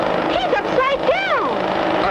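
A stunt plane rolls overhead in a cartoon, its propeller engine droning with swooping rises and falls in pitch as it loops, loud and close, under a voice.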